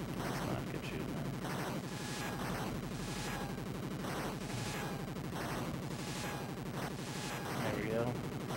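Gunfire in the Captain Skyhawk video game: rapid electronic shots and blasts repeat in regular bursts under a steady game soundtrack, with a voice commentating over the action.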